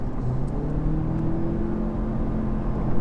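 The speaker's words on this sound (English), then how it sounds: "even though it's got that like horrible CVT whine, it's not too bad" A 2014 Lexus IS300h hybrid accelerating on the road, its engine drone joined by a rising CVT whine in a steady continuous tone heard from inside the cabin, with no talk.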